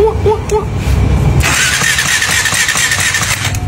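A small motorcycle engine catches and runs steadily after a spark plug is fitted, a loud continuous buzzing idle that starts partway through, preceded by rough noise and brief sounds.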